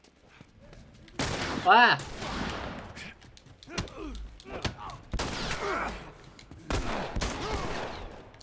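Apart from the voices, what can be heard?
gunfire in the video game The Last of Us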